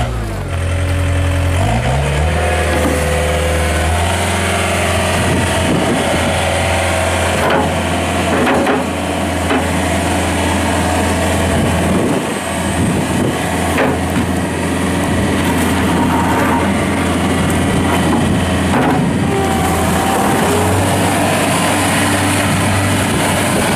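A 2008 John Deere 317 rubber-tire skid steer loader with a 61 hp turbo diesel cranks and starts, then runs steadily with a loud, close, rumbling idle and occasional revs. No one speaks over it.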